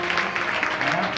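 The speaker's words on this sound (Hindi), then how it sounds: "एक बार उसके लिए ताली बजा करके हाथ जोड़ना करें" Audience at a Shrimad Bhagwat Katha devotional gathering claps for a behind-the-scenes helper, a dense, steady patter of many hands at moderate loudness throughout, with a faint voice mixed in.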